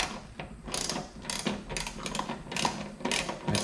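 Rapid ratchet clicking as T25 Torx screws are backed out on a Pontiac G8, several close bursts of ticking separated by short pauses, with no talking.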